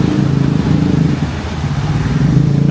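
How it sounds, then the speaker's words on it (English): Busy street traffic in Canggu, Bali, with noisy motorbikes and trucks: a steady, close, loud engine rumble with passing bikes and clattering road noise, no talk. "And the noisy bikes? And the noisy trucks?"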